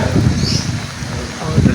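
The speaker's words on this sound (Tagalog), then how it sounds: "Grabe hangin." Strong gusting wind after rain and flooding buffets the microphone, with rustling and low rumbling rising and falling.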